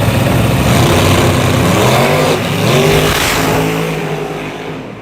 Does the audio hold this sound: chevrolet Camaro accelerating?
yes